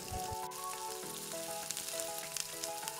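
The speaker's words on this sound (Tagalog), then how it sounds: "Ipa-fry natin itong patatas dahil crispy siya kapag frinay natin." Potatoes and carrots fry in hot oil, sizzling steadily at close range with a constant crackling hiss, a few sharper pops, and a faint tonal hum running underneath.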